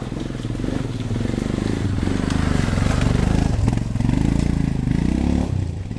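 Royal Enfield Himalayan 411 motorcycle engine running steadily while being ridden, a continuous close, loud low thrum with wind and road noise throughout.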